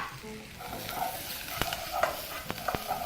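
Chopped garlic fries in oil in a pan, a soft continuous sizzle broken by several crisp pops and stirring clicks, close by with no talking.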